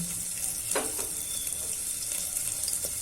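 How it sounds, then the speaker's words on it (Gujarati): Mustard seeds and whole cumin crackling in hot oil while cooking a ridge gourd and potato curry, a steady close sizzle with a few sharp pops early on. "હવે આપણે રાઈ નાખી દેશું, આખું જીરું"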